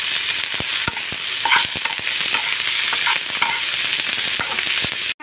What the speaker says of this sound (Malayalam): അതുപോലെ കറിവേപ്പില, മല്ലിയില ഇതൊക്കെ നെറ്റി വെക്കും. അതിന് ശേഷം നന്നായിട്ടൊന്ന് വഴറ്റി